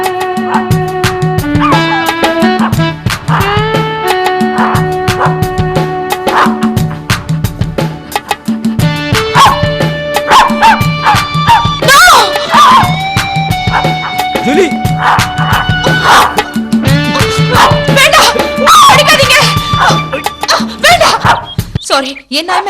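Dog barking and yipping in a Tamil-dubbed horror film scene, short barks scattered across a busy mix of music and people talking.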